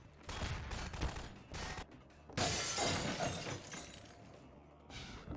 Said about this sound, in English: break the glass with the crowbar